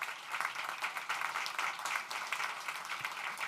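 Guests at the grand opening of 1064 Mission Street clap together, a sustained, moderately loud round of applause with a busy, even texture throughout and no speech over it.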